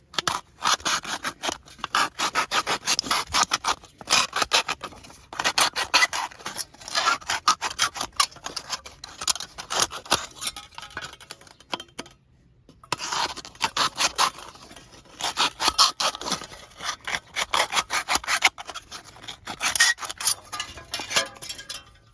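A knife blade saws through a tin can in rapid, repeated rasping strokes, producing a harsh metallic scraping close to the microphone, broken by one short pause midway.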